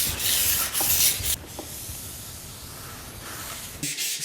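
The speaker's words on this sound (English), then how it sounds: "I blend it with fine sandpaper to make the top sheet and sidewall ultra smooth" Fine sandpaper rubbed back and forth over a ski's top sheet and sidewall, a close, steady scratchy hiss in strokes that eases off midway and picks up again near the end.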